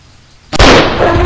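Hunting rifle shot in the Mission Animal Hunter mobile hunting game: a single sudden loud crack that rings out briefly into a dense, sustained tail, heard alone.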